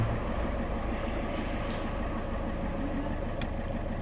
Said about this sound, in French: On va mettre le moteur en route.